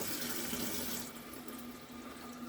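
Water gushes steadily from the fill valve tube of a leaking toilet under repair, a close, continuous splashing flow that eases slightly after the first second.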